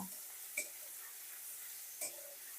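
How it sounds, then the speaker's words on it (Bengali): Shrimp rubbed with salt and turmeric fry in hot oil with a faint, steady sizzle, broken by two short metallic clinks from a utensil, quiet and close, with no talking. "তেলের মধ্যে দিয়ে দিচ্ছি চিংড়ি মাছ।"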